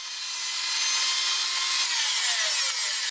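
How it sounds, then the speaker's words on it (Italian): A Klein modular router cutter machines wooden boards for finger joints, a loud steady high whine with a falling tone as it bites the wood, then cutting off abruptly at the end. "dobbiamo gestirci anche quanto la fresa deve appunto rimuovere materiale sulle nostre assi"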